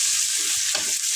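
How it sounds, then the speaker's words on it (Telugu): Ginger and coriander being stirred into egg biryani masala in a pan, a steady close scrape-and-sizzle of frying mixing that runs without a break through the short stretch, with no voices. "ఇట్లా బాగా కలుపుకోవాలి."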